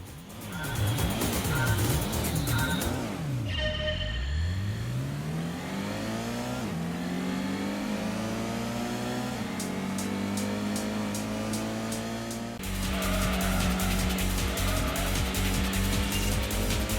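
Racing car engine from Gran Turismo for PlayStation, running on an Anbernic RG552 handheld, revs and climbs through the gears in rising, sweeping pitches. It stays loud and continuous throughout with no talk.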